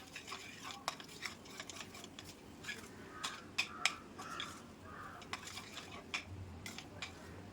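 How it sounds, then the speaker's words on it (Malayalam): A spoon scrapes and clinks against a pan while green gram halwa thickens with ghee, irregular close scraping strokes and small metallic taps, quiet and without talk. "അതും കൂടി ചേർത്ത് നന്നായിട്ട് ഇളക്കി കൊടുക്കാം"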